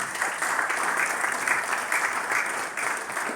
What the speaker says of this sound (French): je donne pour l'applaudisse très fort